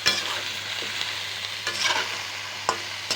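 Pointed gourd and eggplant being stirred with spices in a hot pan, a steady close sizzle broken by several sharp spatula scrapes and knocks.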